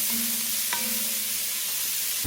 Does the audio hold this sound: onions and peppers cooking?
yes